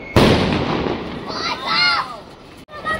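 Diwali firecrackers go off with a loud sharp burst followed by crackling and a whistling, rising shriek, close by and continuing for a few seconds, with people talking over the noise.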